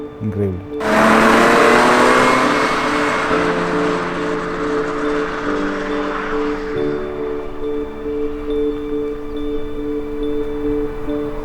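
A BMW E30 Cabrio engine roars up loudly and close, revving hard with a rising whine, then settles into a steady running hum with faint rattles.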